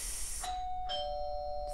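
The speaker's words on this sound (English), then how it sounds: "there's the doorbell again" Doorbell chimes in a preschool story-time setting: a soft two-tone ding-dong, a few clear ringing notes that sustain and overlap, heard alone and fairly quiet.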